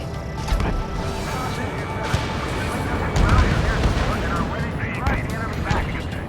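Weapon fire from the Ace Combat 7 combat flight video game arrives as a series of sharp booming shots and crashes over a dense, busy battle soundscape, with in-game radio chatter running underneath.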